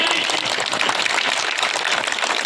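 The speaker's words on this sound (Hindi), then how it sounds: "जोर की ताली" A rally crowd at a political gathering claps hard and steadily, a dense, loud wash of applause that holds without a break for the whole stretch.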